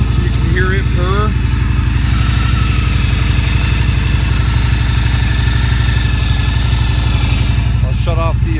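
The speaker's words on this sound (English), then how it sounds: "I'll put the phone close to the engine so you can hear it purr." A Victory V92C motorcycle idles steadily with a loud, even throb right after a cold start, recorded close to the engine, and a few faint chirps sound in the background.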